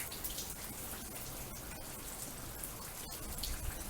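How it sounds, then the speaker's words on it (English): Steady rain falling all around, a dense hiss with scattered raindrop taps, fairly distant and even throughout. "I hope that the sound of the rain is soothing."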